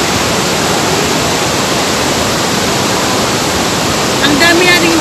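Water rushes down Ban-awan waterfall on a hiking trail, a loud, close, constant roar of cascading water, with a brief voice near the end.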